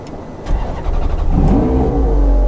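A Ferrari 430 Scuderia engine starts up, a cranking burst followed by a loud, steady idle that settles close by, with no talking over it.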